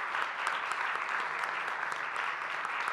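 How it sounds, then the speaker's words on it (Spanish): Audience applause for Cristina Sánchez after a keynote lecture in a university auditorium: steady, dense clapping from a large crowd, fairly soft and even throughout, with no voices over it. "pido un fuerte aplauso para Cristina"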